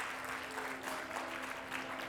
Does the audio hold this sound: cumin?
no